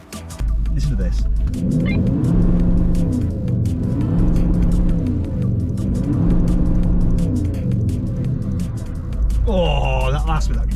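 A VW Touareg V10 5.0 diesel with 350 horsepower revs hard during an off-road challenge, a loud, steady engine drone rising and falling in pitch throughout, with a voice chiming in near the end.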